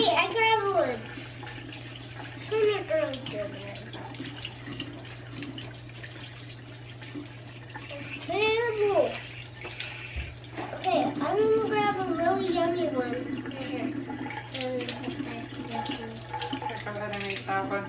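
Water runs steadily from a tap or into a tub during chore-day washing, a continuous hiss heard all the way through, with a child and an adult talking over it.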